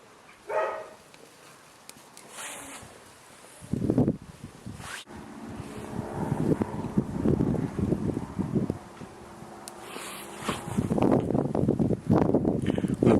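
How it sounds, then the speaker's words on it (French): Gusty wind rumbling and buffeting in an open courtyard around a Fire Profi 128 wood-burning stove, rising and falling, with occasional dog barks and some background noise. "On a pas mal de vent dans la cour"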